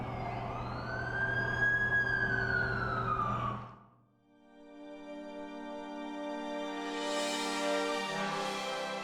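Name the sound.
ambulance siren in a video game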